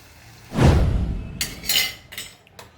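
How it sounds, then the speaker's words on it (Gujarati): A spoon stirs farali morai (barnyard millet) khichdi with a glass of water in a pot, giving one swishing, scraping sweep followed by a few sharp metallic clinks against the pot, close and alone. "અંદર એક ગ્લાસ જેટલું પાણી એડ કરવાનું છે અને તેને બરાબર હલાઈ લેવાનું છે"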